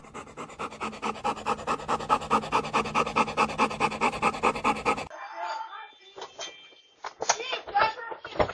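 An excited dog pants rapidly and steadily up close for about five seconds, then the panting gives way to scattered rustling, a brief whimper-like sound and human voices.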